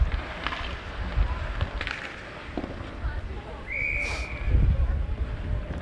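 A referee's whistle gives a short, steady tone during a youth junior varsity ice hockey game, sounding once over rink noise and crowd murmur.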